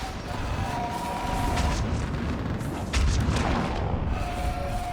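Artillery fire support explosions pounding a battlefield in Mass Effect 3, dull booming blasts and rumbling impacts at middle distance under a steady roar of combat, with a couple of stronger hits standing out.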